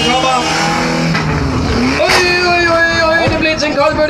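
A small car's engine buzzes and revs continuously as it drives up a ramp at a monster truck stunt show, a loud Danish-speaking voice talking over it, the motor pitch rising and dipping as it climbs.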